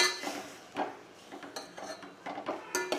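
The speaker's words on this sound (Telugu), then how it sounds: "ఈ విధంగా మొత్తం వేసి బాగా ఆ ఘీ అంతా ఈ తురుముకి పట్టుకోవేటట్టు కలుపుకోవాలి." Grated bottle gourd stirred in ghee in a pan for halwa, with soft scraping and light clinks of a spoon against metal repeating every half second or so, close and fairly quiet, with no talking.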